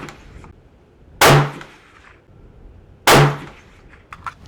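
Two sharp rifle shots from a CZ 527 chambered in 300 Blackout, fired at a steel target, spaced about two seconds apart, each loud and close with a short ringing tail, then quiet.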